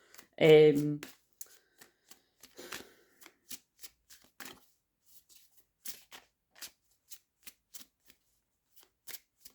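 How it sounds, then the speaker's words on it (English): Tarot cards being shuffled by hand, a few brief rustling riffles and soft taps spread across the stretch after a loud opening voice, then quiet. "I'm shuffling these cards, I'm just seeing what else comes out."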